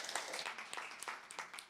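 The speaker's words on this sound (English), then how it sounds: "Your applause, please." Audience applause at a startup pitch event closes out a presentation, a brief spell of scattered claps at moderate loudness in a hall.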